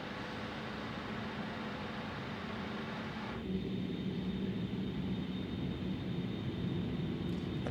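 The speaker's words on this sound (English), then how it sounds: "they call this aeroplane the Whisper Jet for that noise there" Steady whine and broadband roar of an Avro RJ100 jet's engines, heard from the cockpit in Microsoft Flight Simulator 2024 while slowing on approach with flaps extended, a continuous hum whose tone shifts partway through.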